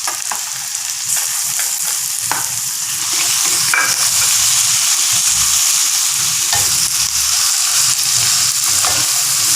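Crushed ingredients and onions are sautéed for anchovy fry, giving a loud, continuous sizzle with steady stirring and scraping in the pan.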